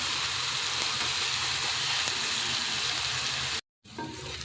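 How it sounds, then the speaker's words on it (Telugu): Fish curry fries in oil with a steady, close, loud sizzle and hiss that runs throughout, broken by a short silent gap near the end before the sizzling resumes. "ఆయిల్ పైకి తేలేంత వరకు ఫ్రై చేయాలి."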